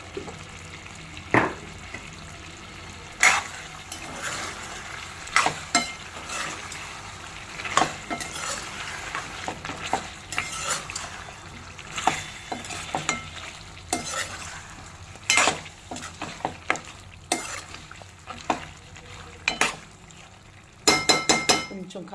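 Mutton curry with chili powder stirred in a pan at home, giving a steady low sizzle broken by frequent sharp spoon scrapes and clinks against the pan, close and moderately loud.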